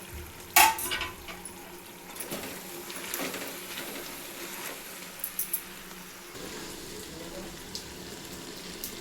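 Boiled vegetables and capsicum frying in oil in a pan for wedding-style vegetable pulao, a low continuous sizzle with an early clatter and occasional light stirring scrapes.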